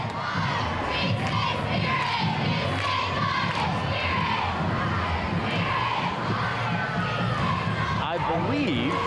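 High school cheerleaders cheer and shout at a Halloween parade in Wapakoneta, a dense crowd of young voices yelling together over street noise, loud and continuous, with a brief whistle-like tone near the end.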